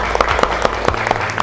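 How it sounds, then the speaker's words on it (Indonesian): A class of students in an Indonesian Islamic education lesson claps briefly together, a loud close burst of hand claps with a few sharper individual strikes standing out over the steady patter. "Tepuk tangannya buat kita."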